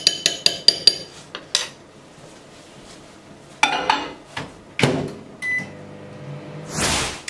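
Spoon scraping and clinking around a bowl of melting garlic butter in a kitchen, several sharp knocks and taps in uneven bursts with short pauses, then a brief microwave-like beep and a final rustle, close and fairly loud.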